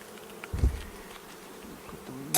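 Honeybees buzz around an open hive during an early spring inspection, a close, continuous insect hum with brief handling bumps.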